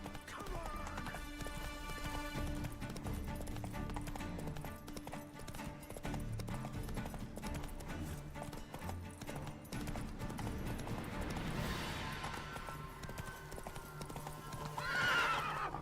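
Roach the horse galloping in The Witcher 3, continuous hoofbeats pounding under game music and ambience, with a loud whinny near the end.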